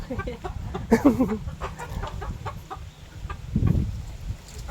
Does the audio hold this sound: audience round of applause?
no